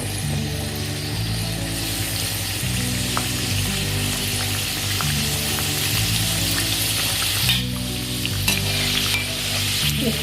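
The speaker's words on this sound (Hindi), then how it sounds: "ये गुजिया मैं ऑयल में डाल रही हूँ" Gujiya pastries frying in hot oil make a loud, continuous bubbling sizzle that fills the whole stretch. A low steady tonal hum sits beneath the frying.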